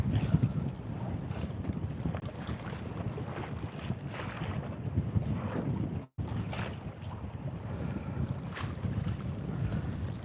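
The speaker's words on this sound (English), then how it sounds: "Can you hear the water slapping?" Shore water slaps and washes at the seaside in Largs, Scotland, a continuous quiet splashing blended with gusty wind buffeting the microphone.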